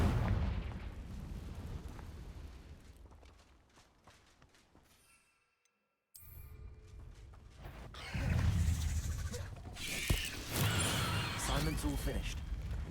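Fire spell explosions from the video game Hogwarts Legacy, booming blasts and crackling bursts mixed with game sounds, loud in the final seconds after a short silence.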